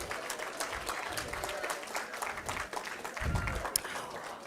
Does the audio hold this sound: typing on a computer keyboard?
no